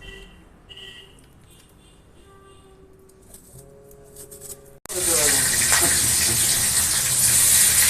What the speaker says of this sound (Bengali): বান্টি মাছ ভাজছে